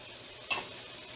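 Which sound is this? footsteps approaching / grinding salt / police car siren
grinding salt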